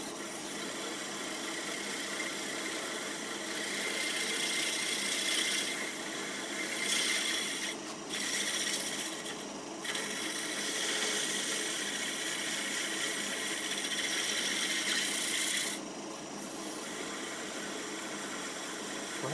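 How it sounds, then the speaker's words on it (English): A wooden goblet turned from a 2x4 is sanded on a spinning lathe, giving a steady, fairly quiet hissing rasp that briefly lifts and pauses a few times under a low motor hum. "Just a quick sand on this part before we go any further."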